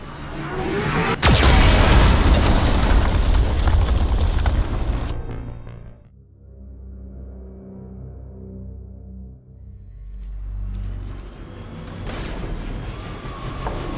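Geth cannon explosions in the Mass Effect 2 video game: a sharp crack leads into a long, loud, roaring boom for about five seconds, followed by a low rumbling tail and another swelling blast toward the end.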